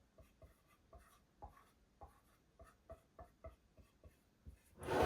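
Pen scratching out a label for a rose hips herb jar in a home apothecary: a steady run of short, close scribbling strokes, quiet and alone, ending in a louder rustle.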